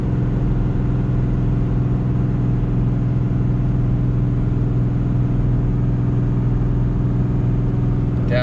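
A car engine accelerating in fourth gear, a steady, loud droning rumble heard from inside that holds evenly throughout with no speech.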